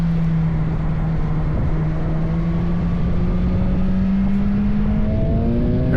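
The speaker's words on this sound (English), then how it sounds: "And really accelerating out of all the bends, trying to straighten up the bike." A motorcycle engine accelerates hard out of corners on the Brands Hatch Indy racetrack, a loud steady drone rising in pitch as the bike straightens up, with no speech.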